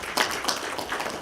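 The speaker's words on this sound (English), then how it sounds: "A big round of applause to the councillors" An audience applauds the councillors at a North West traditional leadership gathering with a deputy president: a dense, steady wash of many hands clapping at moderate level, with a few louder bursts.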